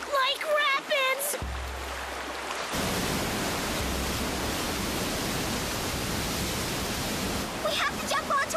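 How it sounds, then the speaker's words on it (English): Rushing water of rapids in a cartoon, a steady loud broadband roar that swells in after a brief rumble, with character voices talking before and after it. "It sounds like water. Lots of water, like rapids!"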